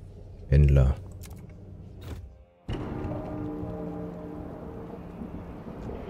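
Stormy weather sounds from the video game Frostpunk 2: a heavy low thunder rumble near the start, a short break, then a steady wash of rain and wind that runs to the end.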